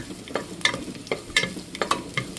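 Garlic sautéing in a little hot oil in a pan, the start of a braised pork rib dish: a close, lively crackling sizzle punctuated by repeated scraping stirs, with no talking.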